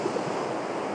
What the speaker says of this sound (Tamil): அங்க பாருங்க பெரிய அலை அடிச்சுட்டு இருக்கு பாருங்க